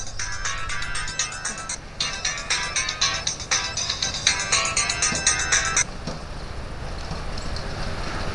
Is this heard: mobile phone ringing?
yes